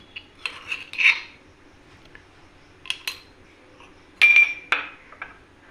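Metal utensils clink against a bowl in sharp, scattered taps while chicken is mixed with salt, close and clear over a quiet background.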